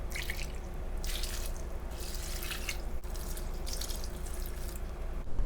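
Warm water poured steadily from a tap into a pot of pork legs for a soy sauce braise, a continuous close splashing and trickling that runs the whole time with no voices.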